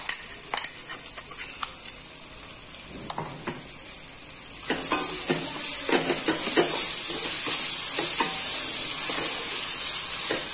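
Spinach and chutney paste frying in hot oil in a pan while being stirred, a steady sizzle that swells louder halfway through, with scraping stir strokes recurring throughout.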